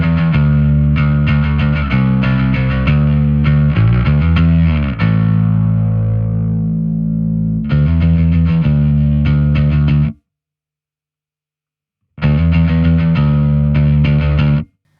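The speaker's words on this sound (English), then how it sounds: "this is a frequency that helps to make the distortion a bit more pronounced" A Microtubes 900 v2 bass distortion pedal with a boosted EQ band: gritty, heavily distorted bass riffs played loud and close, broken by a sustained held note and a short silence before the riff resumes.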